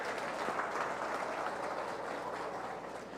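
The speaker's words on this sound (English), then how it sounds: "let's give these kids here in our junior division a big round of applause." At a 4-H county fair beef show, the audience applauds the junior division showmen. The clapping sounds soft and distant, a steady wash that fades slightly toward the end.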